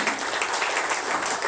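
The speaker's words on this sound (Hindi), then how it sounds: "जितनी भी नारी शक्ति हॉल में बैठी है सबके लिए तालियां होनी चाहिए।" An audience seated in a hall claps for the women present, and the applause forms a dense, continuous wash of many hands that stays fairly loud across the whole short stretch.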